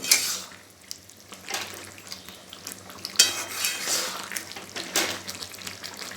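Bitter gourd and eggplant are stirred in mustard oil in a kitchen pan, with irregular scraping and clinking of a spoon against the vessel over faint background noise and no talk.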